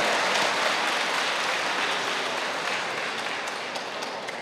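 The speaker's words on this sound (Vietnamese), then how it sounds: "Vỗ tay, vỗ tay." Audience applause at a religious talk on reading and meditating on Scripture, a dense, loud wash of clapping that continues steadily throughout and fades slightly toward the end.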